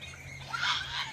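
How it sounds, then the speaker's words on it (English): Birds nesting overhead outdoors give shrill, overlapping squawks and calls at moderate distance, rising in loudness midway over a steady low background hum. "These birds are so annoying."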